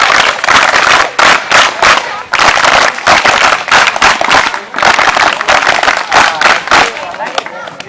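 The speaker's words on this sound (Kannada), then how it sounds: "ಒಂದು 1 2 3 ಚಪ್ಪಾಳೆ" Children at a village children's assembly (gram sabha) clap together in loud, rhythmic bursts of patterned claps, close and energetic, with voices mixed among the applause.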